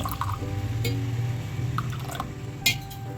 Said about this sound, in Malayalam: ആവശ്യത്തിന് നമ്മൾ തേയില വെള്ളം ഒഴിച്ചു കൊടുക്കുകയാണ്